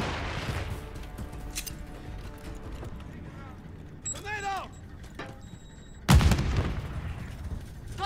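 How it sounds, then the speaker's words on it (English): A grenade blast and scattered gunfire in Call of Duty Modern Warfare 3 team deathmatch, with a sharp loud explosion near the end after intermittent shots, under game voice callouts and radio chatter. "Throwing grenade!"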